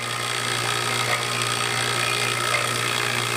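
A vacuum pump evacuates an HVAC line set and evaporator, with the compressor and condensing unit left out of the circuit. It gives a steady, loud mechanical drone with a constant low hum, running unbroken and close.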